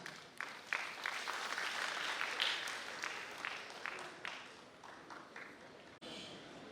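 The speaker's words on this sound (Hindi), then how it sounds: "उनके संबोधन के लिए जोरदार तालियों के बीच" A crowd at a book discussion event claps steadily, a sustained round of applause that gradually thins toward the end, with a few scattered claps after a brief pause.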